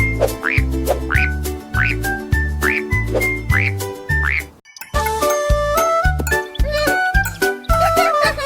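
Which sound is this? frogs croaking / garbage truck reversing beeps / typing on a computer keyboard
frogs croaking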